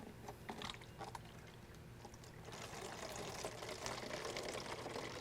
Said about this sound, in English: take your empty distilled water jug and fill it halfway up with the peak antifreeze